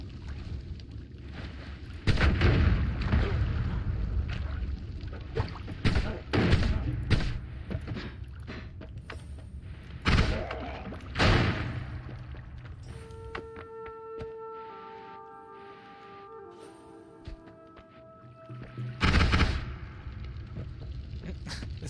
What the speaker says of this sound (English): I wonder if I could get these shots with that minigun effect.